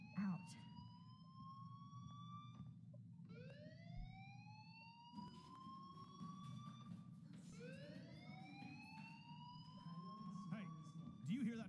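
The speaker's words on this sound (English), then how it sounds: "Hey, do you hear that fire alarm?" In the video game Life is Strange, a fire alarm wails with repeated rising sweeps that cut in and out across the passage, sounding moderately distant over a constant low hum.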